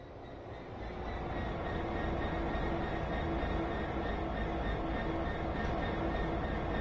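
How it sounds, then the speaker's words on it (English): An HST train pulls away in Train Sim World 3, its low diesel rumble building and then holding steady with a faint, even engine tone, fairly quiet and without talk. "One of the HSTs is leaving."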